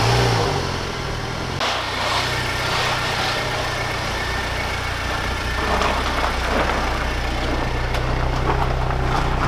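Range Rover Evoque with a 2-liter turbocharged 4-cylinder on a test drive, a steady, loud engine hum with low rumble and occasional slight revving, heard from inside the car with no talk.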